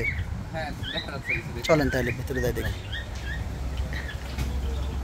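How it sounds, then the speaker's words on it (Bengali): Birds chirp in scattered, bright bursts among the trees of an outdoor fruit garden, sounding fairly close, while a person talks over them. "কি সুন্দর পাখির কিচিরমিচির শব্দ"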